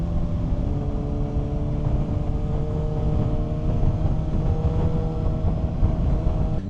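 Kawasaki ZX6R sport bike engine on the move, a steady droning whine with rising harmonic tones, heavily buffeted by rushing wind noise, continuous and close throughout.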